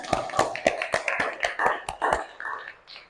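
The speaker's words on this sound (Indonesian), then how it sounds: "ayo tepuk tangan" A classroom of students claps together in a brisk, evenly spaced rhythm of about a dozen sharp claps, close and moderately loud, slowing and fading near the end.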